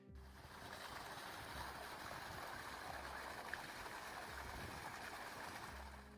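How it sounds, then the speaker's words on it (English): Water gushes steadily from the trunk of a mulberry tree in the village of Dinosa, Montenegro, a continuous rushing, splashing flow that stays close and loud for the whole stretch with no voices. "This is the gushing water tree in the village of Dinosa, Montenegro"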